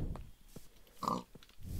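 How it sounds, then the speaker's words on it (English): Pigs in the Minecraft video game give a few short, soft grunting oinks at a moderate distance, scattered across a quiet stretch with no talking. "Oh, pigs!"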